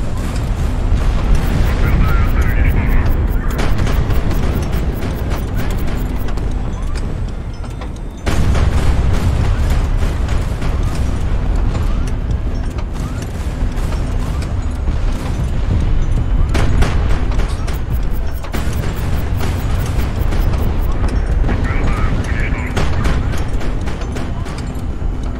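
Heavy gunfire and explosions from warship combat in the HighFleet video game: a dense, continuous barrage of booming blasts and rapid shots, loud and close throughout, with a brief lull near the middle before the firing resumes.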